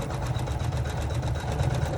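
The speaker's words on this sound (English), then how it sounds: "So my machine goes all that back and forth." An embroidery machine stitches an in-the-hoop cell clutcher wallet with a fast, even, rhythmic mechanical chatter and a low motor hum, running close and continuous.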